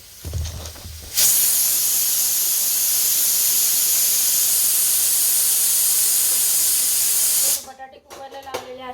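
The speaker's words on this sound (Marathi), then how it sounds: "तर बघा बटाटे लावले कुकरला" A pressure cooker with potatoes inside, on the stove for aloo paratha, gives a loud, steady jet of hissing steam that runs for about six seconds, close by. It starts and cuts off abruptly, with brief household noise before and after.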